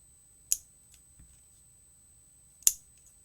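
Two crisp scissor snips cut through card pieces for an ornament shaker card, each a sharp close cut separated by about two seconds of quiet, with a faint tap between.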